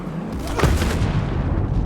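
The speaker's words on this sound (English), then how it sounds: "Enemies attacking with mortars." Enemy mortar rounds in Ghost Recon Breakpoint land as a loud, continuous rumbling barrage of booms, with one heavier blast standing out early amid steady low crashing.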